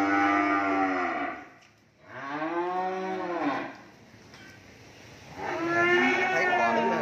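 Cattle at a cow farm let out three long, loud, drawn-out moos with pauses between them, close by and not masked by talk.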